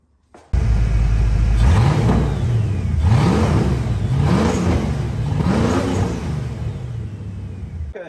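A Foxbody Mustang 5.0 GT V8 with a possible misfire idles loudly, then revs up and falls back four times in a steady rhythm, recorded close with no talking.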